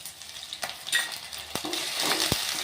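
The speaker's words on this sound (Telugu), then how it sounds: "కాస్త ఉల్లిపాయలు ఇలా వేగాక అల్లం వెల్లిపాయ పేస్ట్ అండి" Chopped onions fry in a pan with ginger-garlic paste added for a Telugu ridge gourd and moong dal curry, giving a soft steady sizzle broken by sharp scrapes and clinks of a spoon stirring.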